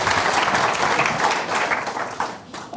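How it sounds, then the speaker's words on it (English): Dense audience applause welcomes a speaker at a cloud-computing tech meetup in London, a brief, steady burst of many hands clapping that slightly tapers toward the end. "please, a round of applause to welcome Hussein"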